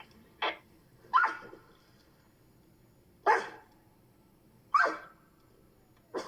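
A dog barks outdoors at a paragliding SIV training site, five separate loud barks spaced a second or two apart, each short and sharp, with faint background noise between them and no talking.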